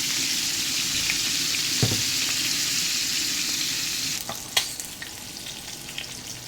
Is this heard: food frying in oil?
yes